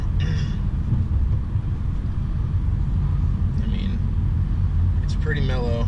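A 2017 Honda Civic with a catless downpipe and muffler delete cruising slowly through a neighborhood at about 25 mph, giving a steady, deep, mellow exhaust rumble close by, with brief bits of a voice over it.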